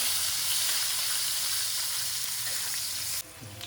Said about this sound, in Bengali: এবারে পেঁয়াজটা দিয়ে দিলাম। এবার নাড়ছি